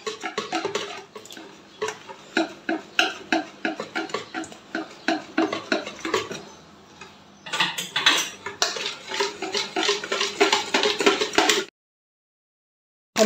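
Cake batter being mixed in a bowl, rapid rhythmic whisking scrapes and clinks in bursts, pausing briefly near the middle, then stopping into near silence at the end, with no speech.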